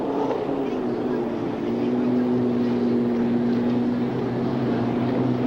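Unlimited hydroplane race boat engine at the 1989 Seattle Seafair heat race, a steady loud drone with a sustained tonal whine running through the whole stretch, under a commentator's talk.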